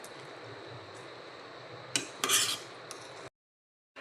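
A spoon scrapes and clinks through kurma in a pan. The soft stirring rubs along, then a few sharper metallic scrapes and taps come before it stops abruptly.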